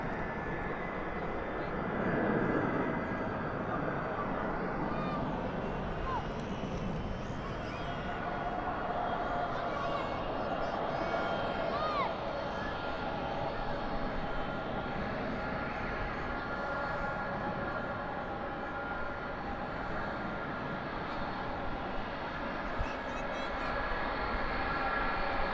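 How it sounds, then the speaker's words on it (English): An Airbus A300 airliner lands at night at Dallas/Fort Worth airport with spoilers up and thrust reversers out, a broad, steady engine roar rising and fading at a distance over about twenty-five seconds, with talk over it. "Spoilers up, reversers out."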